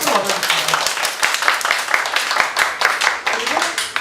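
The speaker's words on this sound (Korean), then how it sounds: "박수 맞아주겠습니다" A group of participants at a political party youth camp applauds, with dense, continuous clapping across the whole stretch, fairly loud and close, and voices mixed in.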